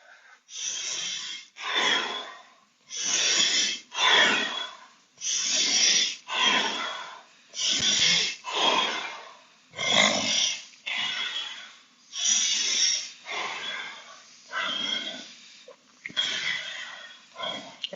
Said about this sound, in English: And we'll go to the faster breathing.